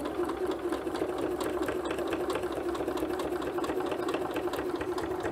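A sewing machine runs steadily throughout, stitching quilt pieces for a Double Irish Chain quilt, with a continuous close whirring hum and fine rapid needle ticks and no pauses.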